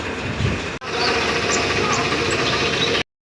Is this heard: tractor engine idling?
yes